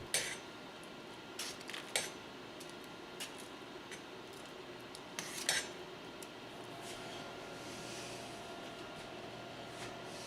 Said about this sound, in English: Continue to cook the salsa on medium-high while stirring occasionally.